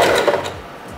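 A sewing machine stitching a hair weft onto a 2x6 wig closure gives a brief, close, rapid mechanical whirring and clatter that eases off within a second.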